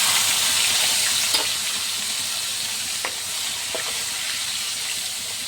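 Chopped peeled garlic and tomatoes frying in a pan of hot oil for a leafy greens dish, a steady bright sizzle with a few sharp spatters and clicks of stirring, close and continuous without speech.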